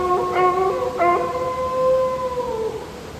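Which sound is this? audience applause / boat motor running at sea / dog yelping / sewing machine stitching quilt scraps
dog yelping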